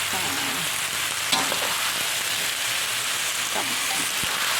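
Pork belly stir-fries with garlic and pepper for a pickled mustard greens soup, making a dense, steady sizzle close up, with occasional utensil scrapes and taps against the pan.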